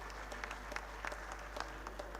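Applause from the audience at a university convocation ceremony, a faint, distant patter of clapping over a constant low hum.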